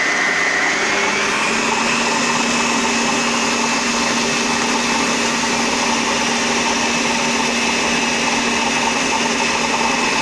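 A stand mixer running at full speed beats butter and sugar with a loud, constant motor whine that rises slightly in pitch early on and then holds steady throughout.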